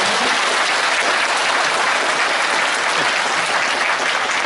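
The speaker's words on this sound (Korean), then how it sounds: "좋은 강의를 해주신 김희곤 관장님께 다시 한번 큰 박수 부탁드리겠습니다" A lecture-hall audience at a civic talk on the independence movement bursts into loud, dense applause that stays steady and full throughout, with no voices over it.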